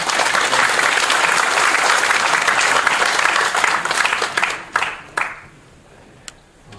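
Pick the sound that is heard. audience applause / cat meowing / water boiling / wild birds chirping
audience applause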